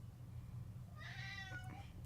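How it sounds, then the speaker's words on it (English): A cat meows in a rising, drawn-out call near the middle and end of the moment, over steady low background hum in an indoor room. "The cat's here."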